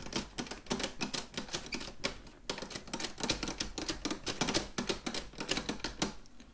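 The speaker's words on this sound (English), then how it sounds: "So when you push a button, you see the voices open and close." Register buttons on an inexpensive chromatic button accordion click repeatedly as the internal plastic sheets shift, giving rapid, dry, close clacks in irregular bursts, like typewriter keys, with no talking.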